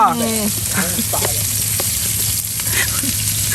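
Chicken frying in a pan at a campsite gives a steady close sizzle and crackle throughout, with people talking over it.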